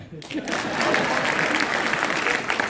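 Sustained audience applause at a political speech in Maharashtra, steady dense clapping filling the clip after a brief quieter start, fairly loud and close, with no clear talk over it.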